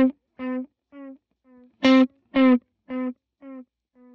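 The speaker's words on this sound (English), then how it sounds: "So you can really hear the modulation on those echoes." Line 6 Helix delay with deep chorus modulation on the echoes: a short tone followed by a string of about eight regularly spaced, wavering repeats, swelling then fading away, with no talk.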